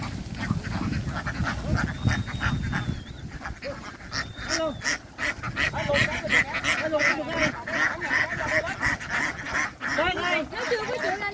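A flock of ducks quacks and honks near a truck in rain and storm, dense overlapping calls continuing throughout with people talking among them.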